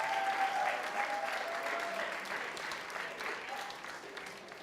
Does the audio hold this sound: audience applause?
yes